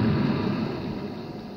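A loud, broad rumbling blast in the Dragon Ball Z Final Stand video game, a single sustained roar that slowly decays over about a second and a half.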